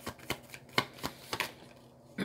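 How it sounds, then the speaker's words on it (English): Tarot cards shuffled and flipped in a series of sharp, papery flicks and riffles, close and fairly soft, spaced irregularly with brief pauses between bursts. "Cards flipping over the air."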